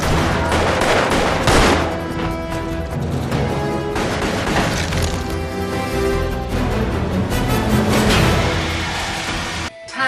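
Dense, chaotic gunfire from the Skyfall shootout, loud overlapping shots and crashes forming a continuous barrage with no pauses until a sudden cut near the end.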